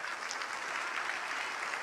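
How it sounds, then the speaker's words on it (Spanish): A congregation applauding during a Spanish-language church service, with continuous clapping from many hands at a fairly quiet, even level throughout and no voices over it. "Un aplauso al Señor."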